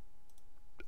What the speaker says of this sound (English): All I did was I right-clicked on an empty spot